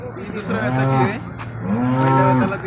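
Two long, low moos from a Holstein Friesian cow at a cattle market, one after another with a short pause between, loud and close, with no talking.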